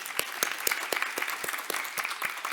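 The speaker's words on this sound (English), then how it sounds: "A round of applause for all of us." Applause from a conference audience, heard as fairly sparse, distinct hand claps in an uneven rhythm over a soft wash of clapping, moderately distant and fading in and out across the short stretch.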